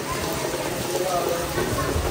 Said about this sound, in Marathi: पाऊस पडायला लागले आता इथे.